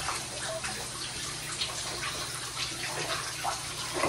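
Shower water runs in a steady gushing stream, a fairly soft continuous splash with no one speaking.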